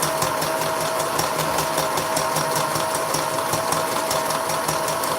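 A sewing machine stitches steadily at a fast even rhythm, the mechanical clatter close and continuous without pause.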